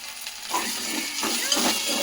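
Onions frying in a pan with ginger garlic paste and turmeric for spicy chicken fry, a soft continuous sizzle with a few stirring scrapes, close and fairly quiet, no talk.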